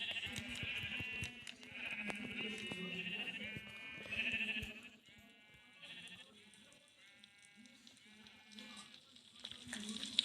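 Sheep bleat again and again at a distance, wavering cries rising over faint background noise, with occasional talking in between.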